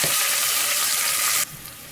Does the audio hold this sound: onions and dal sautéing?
yes